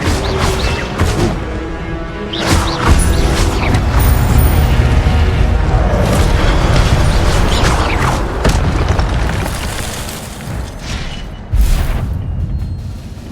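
Incendio fire spell casting in the Hogwarts Legacy video game, loud roaring bursts and booming impacts layered with rumbling combat noise throughout, with a sharp new blast near the end.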